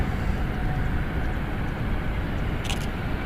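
A Boeing 777-300ER jet airliner just landed at San Francisco International Airport makes a steady, loud broadband roar that holds throughout, with no voices.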